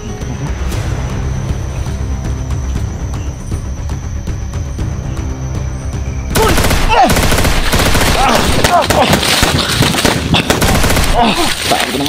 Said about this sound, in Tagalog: Ito pinagbabaril kami tol.